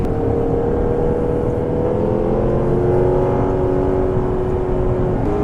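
A 2015 Lexus RC F V8 at speed on a racetrack, its augmented engine note a loud, continuous droning growl with a slight pitch drift, heard from inside the car with no talk.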